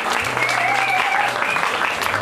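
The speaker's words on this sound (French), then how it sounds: "Et alors je vous demande d'applaudir justement le maître de formation du CFA, Evan, s'il vous plaît." An audience at a chocolate-making demonstration by a culinary training school in Sète bursts into steady, dense applause, close and loud throughout.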